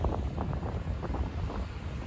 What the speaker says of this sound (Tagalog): Malamig na yung simoy ng hangin.